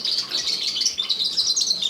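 A canary chirps steadily while being hand washed over a bowl, with a continuous stream of high, rapid tweeting that is close and fairly loud.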